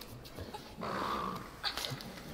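A dog in the video game INSIDE growls and lunges in attack, a rough snarling burst rising mid-clip and holding for about a second, followed by short scuffling hits, with no speech over it.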